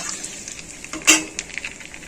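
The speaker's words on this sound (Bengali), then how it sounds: "এই তেলেই পাঁচফোড়ন ফোড়ন দেব পাঁচফোড়নটা একটু ভাজা ভাজা হোক" Panch phoron whole spices crackling in hot oil in a pan, a soft sizzle with small pops and one sharp louder burst midway.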